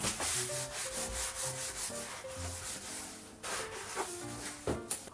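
A bathroom washbasin being scrubbed by hand with Akabako bar soap, making continuous close rubbing and swishing strokes in a steady rhythm, with soft music underneath.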